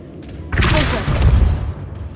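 A Confringo curse explodes in Hogwarts Legacy, a sudden booming blast with crackling debris that rumbles on for about a second before fading, loud and close.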